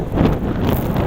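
Strong wind buffeting a microphone on the Coney Island boardwalk in New York City, a loud, low, gusty rumble filling a brief moment with no speech.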